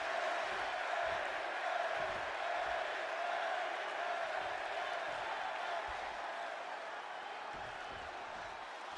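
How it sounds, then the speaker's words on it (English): A simulated arena crowd in Chicago in the WWE 2K26 wrestling game keeps up a steady, distant roar of cheering, with low thuds surfacing intermittently beneath it. "And just listen to this crowd here in Chicago."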